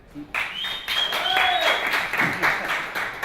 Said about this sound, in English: Please, an applause for Victor